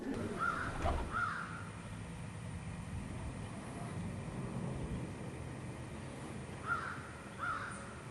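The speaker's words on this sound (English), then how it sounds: "the crows prize these and come down and land and eat the eggs" Crows caw outdoors, two pairs of harsh calls at a moderate distance, one near the start and another near the end, over a low rumbling background like distant traffic or a passing train.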